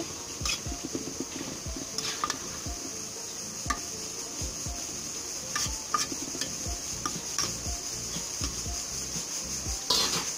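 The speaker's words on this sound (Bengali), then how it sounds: "লবণ দিয়ে এখন একটু ভালো করে মিশিয়ে দেব।" Country chicken curry with salt being stirred in a pot, repeated spoon scrapes and clinks against metal in an irregular rhythm over a steady low simmer, fairly close.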